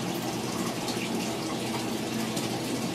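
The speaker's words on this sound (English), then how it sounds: "I've got a 5-gallon bucket filled with hot water." Hot water gushes steadily into a 5-gallon bucket, a constant close-up rushing and splashing stream with no pauses and no voices.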